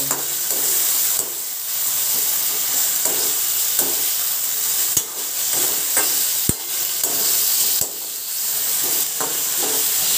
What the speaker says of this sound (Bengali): আমি 2 মিনিট এইভাবে একটু নাড়াচাড়া করে ভাজা মতন করে নেব।